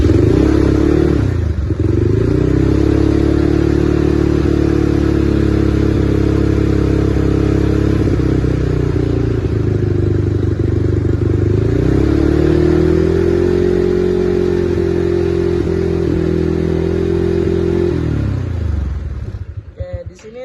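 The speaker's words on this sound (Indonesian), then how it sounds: "Sini kita akan menyalakan motornya." A motorcycle engine is started during a battery charging test in a maintenance job sheet, then runs at a steady, close, loud idle for about sixteen seconds before shutting off.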